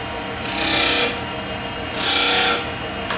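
A skew chisel cuts marking grooves into spinning wood on a lathe for a photo holder project, two close, loud bursts of hissing scrape about a second apart, then a brief tick at the end.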